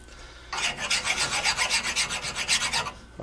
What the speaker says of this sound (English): just give it a nice flat draw file, and just take off any high points